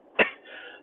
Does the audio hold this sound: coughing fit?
yes